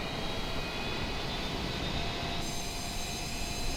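Airliner jet engines in Microsoft Flight Simulator 2020 drone in a steady broadband roar as the plane taxis onto the runway, constant and moderately loud with no voices.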